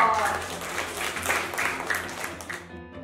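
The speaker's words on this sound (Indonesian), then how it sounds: "Tepuk tangan dong." An audience claps together in a brisk, full round of applause that fades out abruptly near the end, leaving a brief quiet tail.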